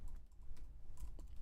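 Quick keystrokes on a computer keyboard while typing into writing software, a short burst of light irregular clicks heard close up with no voices.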